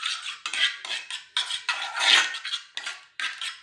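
A spoon scrapes rhythmically around a bowl, stirring almond oil into a homemade skin cream, about ten short, close gritty strokes separated by brief pauses.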